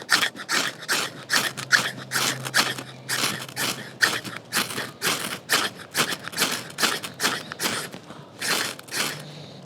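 A cheap survival knife's spine scrapes a ferro rod in repeated rasping strokes, about twenty sharp close scrapes in an uneven rhythm with short gaps between them.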